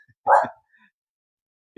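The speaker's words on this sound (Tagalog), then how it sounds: "Ang aso." A single sharp dog bark, close and loud, heard outdoors during a house visit, followed by silence.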